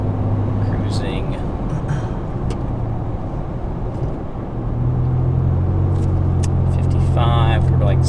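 A Nissan Frontier with an MBRP exhaust cruises along, heard from the cabin as a steady low engine and road drone that deepens and strengthens midway, with a voice talking over it.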